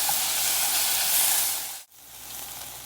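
Kimchi sautéing in a hot pan for vegan kimchi jjigae, a close, steady hiss and sizzle that briefly drops out near the end and then resumes more softly.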